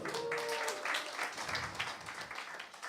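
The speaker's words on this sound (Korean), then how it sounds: "박수" A church worship audience applauds in a short, fairly faint burst of clapping that stays steady for about three seconds.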